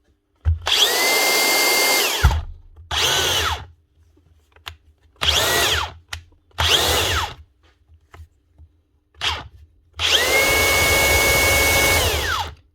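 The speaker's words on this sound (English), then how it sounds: "One Makita cordless angle drill" A Makita DDA460 cordless angle drill, repaired after failing to power on, whirs in several bursts of varying length, starting and stopping with short quiet gaps between, close and loud.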